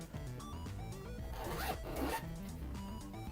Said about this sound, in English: And go ahead and unzip.